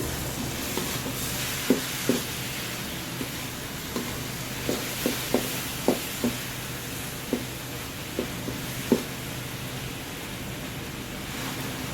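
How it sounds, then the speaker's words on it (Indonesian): Kue mendut dough cooking down in a pan, a soft continuous bubbling hiss with a dozen light, scattered taps and scrapes of a spoon stirring until the water evaporates. "Kita akan aduk terus hingga airnya menyusut ya, atau mengering."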